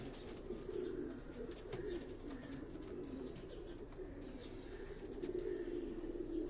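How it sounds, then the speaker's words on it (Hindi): Pigeons coo steadily on a rooftop in Karachi's Defence area, a low warbling burble running through the whole stretch, with faint chirps and a soft background hiss. "ये देखें, इस कबूतर को देखें आप।"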